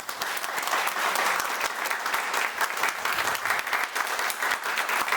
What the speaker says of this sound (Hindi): तो पहली बात इनके लिए अब तक का जोरदार ताली बची।